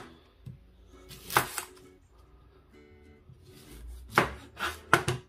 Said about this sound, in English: the first thing we need to do is get the onions cut